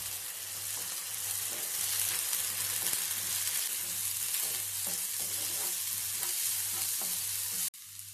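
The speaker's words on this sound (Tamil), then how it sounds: "சேர்த்து அதோட ரா ஸ்மெல் போகிற வரைக்கும் நல்லா வதக்கிக்கலாம்" Onions with two spoons of ginger garlic paste sautéing in a pan for restaurant-style chicken handi, a constant bright sizzle with a low hum and regular stirring scrapes, cut off abruptly near the end.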